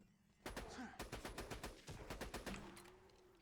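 Rapid automatic gunfire in an online shooter game tournament match, a steady string of sharp loud shots with brief gaps, close and dominant.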